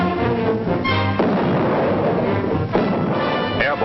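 An artillery gun firing in battle in 1944 wartime film footage, a booming blast with rumbling noise that carries on and fades, loud, over a dense noisy soundtrack.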